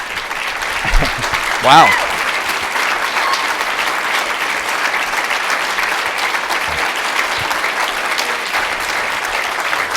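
Loud sustained applause fills a summit hall, a dense steady wash of clapping from a large audience lasting throughout, with a brief exclaimed voice near the start.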